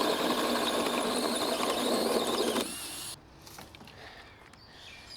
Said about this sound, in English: I've just used my 60mm hole saw to drill our hole to take our 1 watt deck light